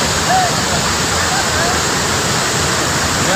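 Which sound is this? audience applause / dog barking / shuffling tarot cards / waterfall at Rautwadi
waterfall at Rautwadi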